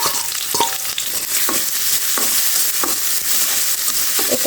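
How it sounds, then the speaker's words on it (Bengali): Onion and garlic frying in a pan, with a loud continuous sizzle and several stirring scrapes, close up with no talk. "আমি নেড়ে ছেড়ে একটু কষিয়ে নেব"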